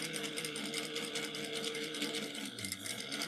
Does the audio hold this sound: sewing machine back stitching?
yes